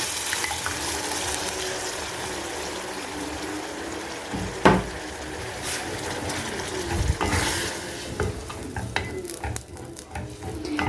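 Tomato sauce being poured into a pan of macaroni and minced meat, a wet sizzling and stirring texture with a sharp clatter partway through and scattered clinks toward the end.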